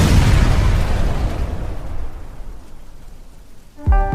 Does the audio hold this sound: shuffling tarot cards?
no